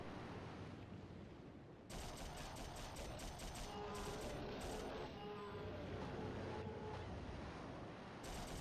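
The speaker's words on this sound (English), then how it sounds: "Dual SMGs fire." Twin submachine guns fire in the 2000 game Dino Crisis 2, a dense rapid stream of shots bursting in after a quiet moment and continuing steadily at close range over a busy roaring game soundscape.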